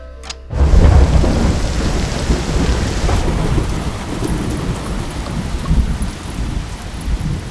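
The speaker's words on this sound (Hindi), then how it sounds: "शैलू, ये क्या इतनी बारिश में?" A sharp thunderclap breaks out over heavy rain, then a steady, loud downpour hisses and drums on surfaces with low rumbling underneath, no voices present.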